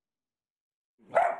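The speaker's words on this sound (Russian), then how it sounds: "Бойкий щенок грозно лает на гостей с телекамерой, охраняя свой новый дом" A lively stray puppy from Chernogorsk guarding its new home gives one short, sharp bark at visitors with a TV camera. The bark comes close and alone after a second of silence.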